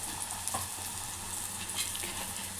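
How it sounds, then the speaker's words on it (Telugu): A spoonful of ginger frying in a pan, giving a continuous close sizzle with a few faint stirring clicks. "ఈ అల్లం పచ్చివాసన వేయేంత వరకు ఇట్లా వేయించుకోవాలి"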